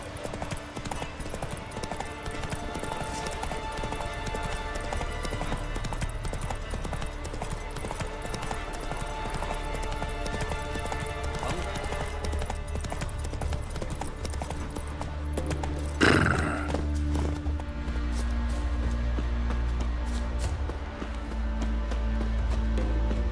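Roach, the horse in the video game The Witcher 3, gallops with a steady stream of hoofbeats at moderate volume, rising in a brief louder burst partway through.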